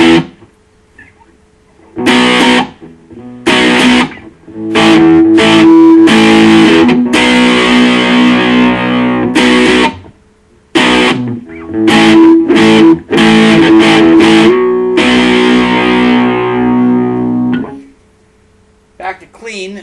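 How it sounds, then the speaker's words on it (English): A Highway Blues electric guitar is played through distortion, with gritty, sustained chords and notes in several phrases separated by short silences, loud and up front. "Now we'll go with some distortion."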